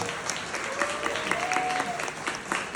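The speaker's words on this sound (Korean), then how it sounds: "박수 부탁드리겠습니다" Wedding guests clap after the couple's vows, a moderate, continuous round of applause in a hall, with a faint voice briefly audible beneath it.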